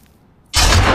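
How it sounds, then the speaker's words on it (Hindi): Gunfire erupts abruptly halfway through after near silence, a loud dense burst of shots on a rooftop in a scene from the animated film Ratatouille, sustained to the end. "एक्चुअली गोलियां चल गई है छत पे।"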